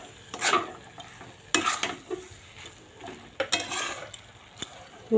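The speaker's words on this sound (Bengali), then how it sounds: "একটু ভালো করে নেড়ে নিই" Vegetarian papaya curry being stirred in a frying pan, the spoon scraping and clinking in bursts over a soft sizzle, close and moderately loud with no talking.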